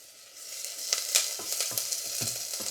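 One small onion softens in a pan with a light, crackling sizzle. Stirring scrapes and clicks come through close by, and no one talks.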